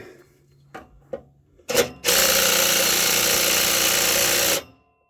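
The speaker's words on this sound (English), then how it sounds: "We're going to see if this will come off with my little 1/4 inch DeWalt impact driver." A small 1/4 inch DeWalt impact driver on a stuck exhaust bolt during a turbo-back exhaust install: a few short knocks first, then one loud, steady burst of rapid hammering rattle lasting about two and a half seconds before stopping.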